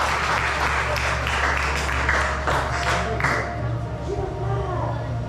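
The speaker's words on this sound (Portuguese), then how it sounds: "Vamos aplaudir bem forte" Loud, sustained applause fills a church congregation, broad steady clapping lasting the whole stretch with voices mixed in underneath.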